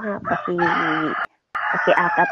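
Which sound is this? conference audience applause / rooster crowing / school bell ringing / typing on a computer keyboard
rooster crowing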